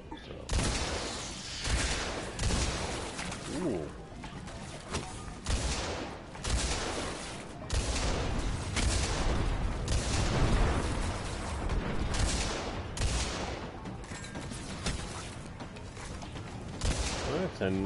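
Dense, continuous gunfire and blasts from a hand cannon in the shooter game Destiny, with rapid overlapping shots and booming impacts filling the mix, loud and busy throughout.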